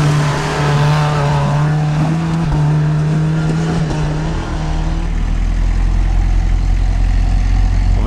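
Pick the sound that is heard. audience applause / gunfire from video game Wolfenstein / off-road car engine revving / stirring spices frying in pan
off-road car engine revving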